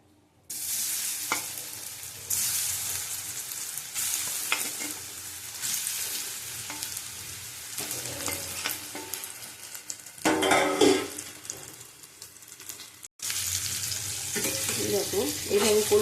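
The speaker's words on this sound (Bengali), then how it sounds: "এবার আমি ভেজে নেব।" Soybean fritters frying in hot oil, a steady dense sizzle running throughout with occasional stirring and utensil scrapes, briefly dropping out near the end before resuming.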